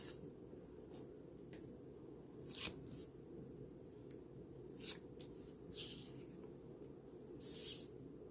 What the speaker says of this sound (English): Okay, so maybe just peel the back of this off.